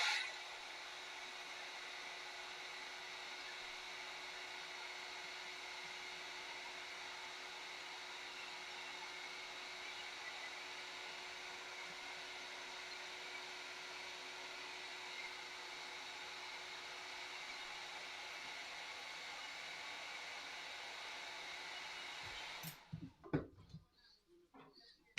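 A belt sander runs on EVA foam as a steady, loud, even whine with a constant hum, holding unchanged for over twenty seconds before it cuts off abruptly, followed by a few faint knocks.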